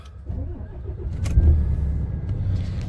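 A 2020 MAN TGX 510 ADR truck's engine cranking and catching, heard nearby, then settling into a loud, steady diesel idle.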